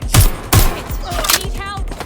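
Gunfire in the video game Watch Dogs Legion: two heavy, close shots in quick succession, then a volley of lighter pops and thuds, and a short whirring effect near the end.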